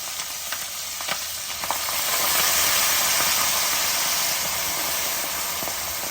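Green chillies and gongura leaves fry in a pan for gongura pulihara, a loud, close, continuous sizzle and hiss that surges after a few light clinks, with no talk.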